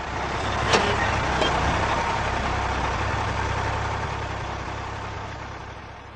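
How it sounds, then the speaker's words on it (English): A large vehicle engine idles at a steady loud rumble with traffic noise around it and a brief sharp clank near the start, fitting a bus pulling in. "Then the bus came and I got on."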